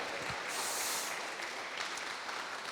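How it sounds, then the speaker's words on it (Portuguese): A church congregation applauds during a sermon, a soft, even patter of clapping heard at a moderate distance throughout. "Um aplauso a Ele."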